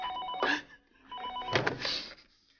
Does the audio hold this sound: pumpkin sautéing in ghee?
no